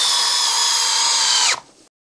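A Ridgid high-torque hammer drill runs at speed 2 with a loud, steady high-pitched whine, then spins down abruptly and falls silent near the end.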